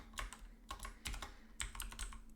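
Fingers type on a computer keyboard in quick bursts of close, crisp key clicks with short pauses between runs and no talking.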